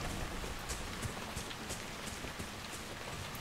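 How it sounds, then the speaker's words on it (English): Steady rain falls at night in the Mire, a swampy area of the video game Dragon Age: Inquisition, with a constant dense hiss of drops and a few sharper spatters. It is fairly quiet and even throughout, and no voices are heard. "And it's always raining, apparently."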